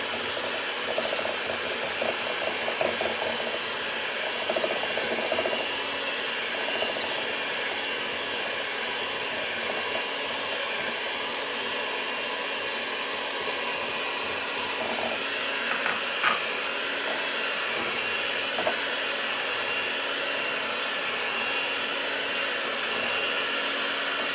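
An electric mixer beats eggs with sugar for an Italian cake, giving a steady, continuous motor whir close by. The drone holds at an even level for the whole stretch, with no voices.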